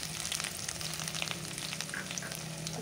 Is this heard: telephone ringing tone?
no